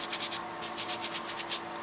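Close, rhythmic rubbing strokes of a baby wipe scrubbing an ink stamp clean, about a dozen quick passes in steady succession with no talking.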